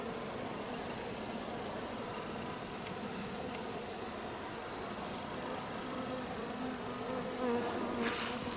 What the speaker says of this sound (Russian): Пчела летает.